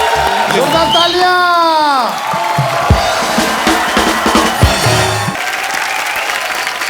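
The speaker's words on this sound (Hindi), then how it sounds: "जोरदार तालियां" Loud audience applause and cheering from a comedy stage show crowd fill the space, with voices and whoops rising over the steady clapping throughout.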